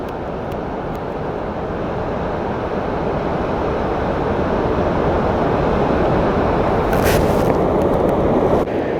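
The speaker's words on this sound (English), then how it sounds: "Here's another waterfall" Waterfall on the Firehole River in Yellowstone, a steady, loud, broadband rush of falling water that holds constant throughout, with brief wind buffeting on the microphone near the end.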